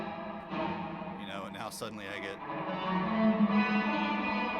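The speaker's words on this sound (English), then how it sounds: "It'd be just like turning the mix way up on the reverb here" Electric guitar played with the reverb mix turned way up, giving a washy, smeared, sustained tone that swells louder toward the end while someone talks over it.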